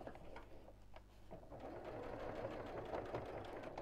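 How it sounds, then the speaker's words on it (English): A sewing machine runs a steady straight seam across the top edge of a thick, layered messenger bag, its fast rhythmic stitching continuous and close, with no talking. "I'm just sewing, straight, get out of the way, straight across the top, close to the edge, just to hold it in place."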